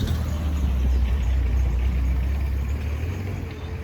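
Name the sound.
car driving past behind the speaker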